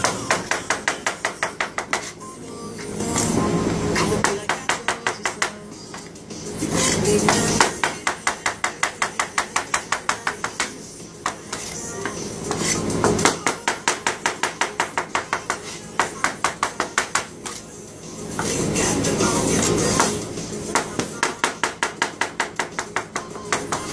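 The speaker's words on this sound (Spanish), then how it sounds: "vamos a cortar zanahoria para hacer zanahoria con para los chiles de vinagre y la salsa" A knife chops carrots on a board in rapid, evenly spaced strokes, loud and close, coming in long runs with short pauses between them.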